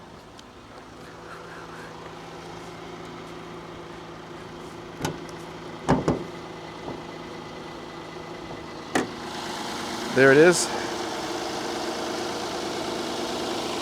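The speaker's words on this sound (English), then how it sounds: "Engine sounds really good though" A Land Rover engine idles quietly and evenly in the background, with scattered knocks and clicks nearby and a short spoken remark near the end.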